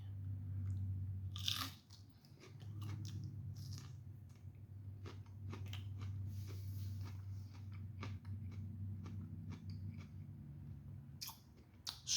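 Crunchy bites and chewing of a thick-walled Pepapeach Stripey sweet pepper, close and distinct, with sharp crisp snaps over a low steady background hum.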